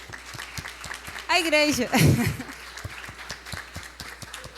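Church youth applaud in a worship service, a burst of clapping rising briefly amid a voice speaking over it, with sparse claps continuing around the talk.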